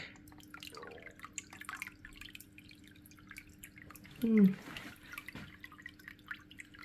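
Soft bubbling and dripping water from an aquarium sponge filter trickles quietly and steadily, with a low hum underneath and one louder gurgle midway.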